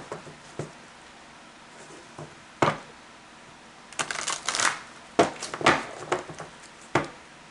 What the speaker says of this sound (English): give me just a moment to get your cards shuffled and laid out